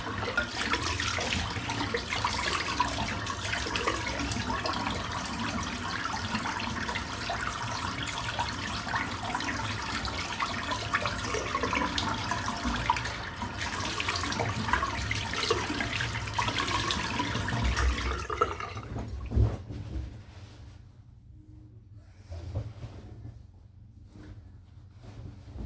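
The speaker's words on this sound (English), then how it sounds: "Just rinse the brush out." Running tap water pours steadily into a sink while a shaving brush is rinsed, a continuous splashing hiss that stops near the end, leaving a few faint drips and clinks.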